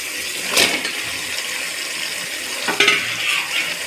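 Sliced onions with tomato frying in a pan for a village-style potato biryani, a steady close sizzle with a couple of brief stirring scrapes and clinks.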